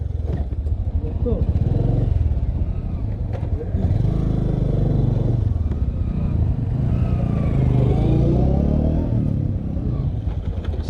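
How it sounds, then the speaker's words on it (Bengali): A heavy 140 kg motorcycle engine rumbles and revs close by, loud and continuous, with voices talking over it. "একশো চল্লিশ কেজির একটা ওজন বাইক নামাইতে গেলে তো ঘামাইতে হইবই"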